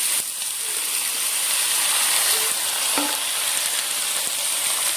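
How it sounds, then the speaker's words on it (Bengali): A paste of ginger, green chilli and cumin fries in hot oil in a pan for khichuri, giving a loud, close, unbroken sizzle with a few faint scrapes from stirring. "একটা আমি পেস্ট বানিয়ে দিয়েছি আদা কাঁচা লঙ্কা আর জিরে দিয়ে দিয়েছে, সব একটু ভাজা ভাজা করে নেবো"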